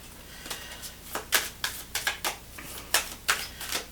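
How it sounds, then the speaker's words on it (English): Oracle cards being shuffled by hand, giving a run of crisp, papery riffling bursts in quick uneven succession, close and fairly clear with no voices over them. "Shuffle one more time"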